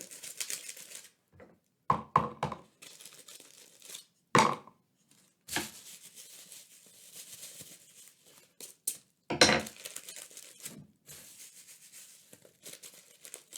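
Intermittent crisp crinkling and crackling of aluminium foil being handled, in short bursts separated by quiet pauses, close up.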